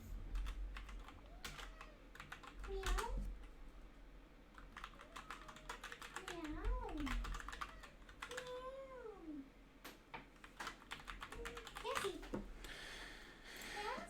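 Rapid, irregular clicking of computer keyboard typing, fairly close, running throughout, with a cat meowing several times in the background.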